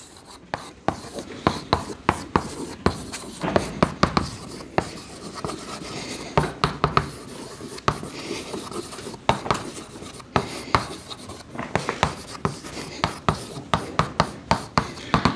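A pen scratches across paper in close, crisp bursts of strokes as someone handwrites a chemistry equation for the solubility equilibrium of magnesium hydroxide. Short pauses separate the scribbles, and no one speaks.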